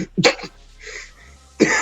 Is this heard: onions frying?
no